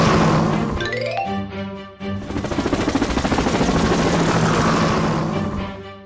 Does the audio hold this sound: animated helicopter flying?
yes